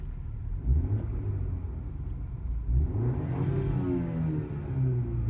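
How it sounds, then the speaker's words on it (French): A BMW X-Drive 20i four-cylinder engine accelerating on the road: two rising revs, each climbing in pitch and then easing off, with the second pull longer and brighter. No voices are heard. "écoutez-moi ce petit bruit du bloc 20i"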